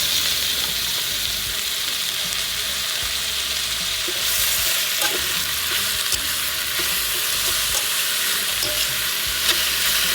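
Bamboo shoots sauté for adobo in a pan, a continuous close sizzle and crackle with scraping stirs throughout, louder and brighter in the second half, no voices.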